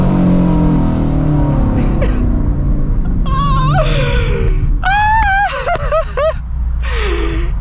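Shelby GT350 with catless long tube headers and active mufflers, loud engine roar with rising revs and sharp whining tones in repeated bursts, close and dominant throughout.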